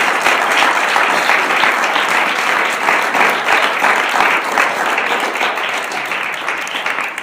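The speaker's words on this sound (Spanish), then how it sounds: "Fuerte el aplauso a mi Señor Jesucristo." A church congregation breaks into loud, sustained applause for Jesus Christ, dense, even clapping from many people that continues for several seconds and barely tapers off.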